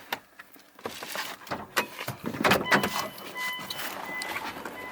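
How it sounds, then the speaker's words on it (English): The hood of a Mitsubishi Evo VI Tommi Makinen edition is popped open, giving a series of close clicks, latch clunks and rattling knocks in quick succession. "Let's pop the hood."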